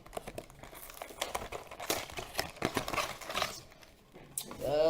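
Cardboard product box for a Magnetic Galaxy v2 dodecahedron puzzle being torn open by hand, close up: a run of crinkling, ripping bursts of varying loudness with a brief voice near the end.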